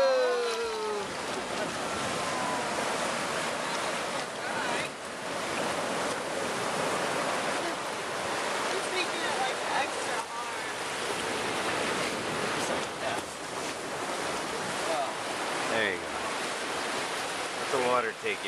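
Ocean surf washes in and out on a beach at night during a leatherback sea turtle hatch, a continuous broad roar of breaking waves swelling and easing in cycles, with voices of people nearby under the surf.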